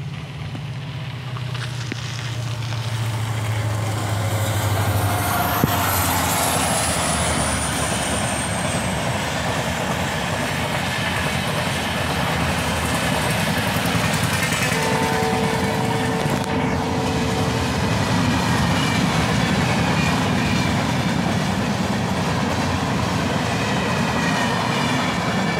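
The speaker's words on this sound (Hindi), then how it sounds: "और इधर से आ रहा है भाई ट्रेन" A long train rolls past on the railway, a loud, sustained rumble with wheel clatter and a high screech partway through, heard close up with no talk.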